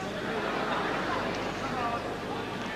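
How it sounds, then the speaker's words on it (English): A tennis crowd at the 1981 Wembley final, Connors against McEnroe, fills the space with steady, continuous murmuring and scattered calls toward the players, a dense indoor babble with no single voice standing out. "Disturbing this tendency of the crowd to call out at the players."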